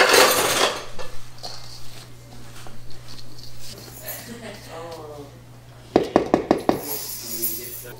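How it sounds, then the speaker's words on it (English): A spoon scrapes and knocks in a bowl while coconut and diced candied ginger are folded into sticky cookie dough, soft stirring, then a run of sharp taps near the end, with a person talking over it. "fold in coconut, which is 2 cups of coconut, and diced candied ginger."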